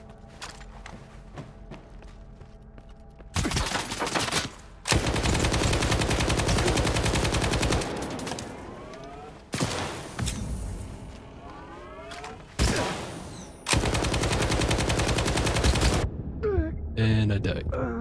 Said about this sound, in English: Look, it's machine gun time.